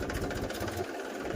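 A tractor engine chugs steadily at close range in a farm field, a continuous mid-to-low rumble that dips slightly near the end, with no talk over it.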